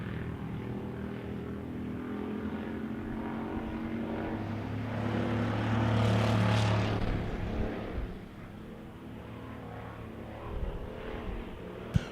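Wissota pure stock race cars roar around a dirt oval during a feature race, engine drone swelling as the pack passes close, then fading to a distant hum, ending with a sharp knock.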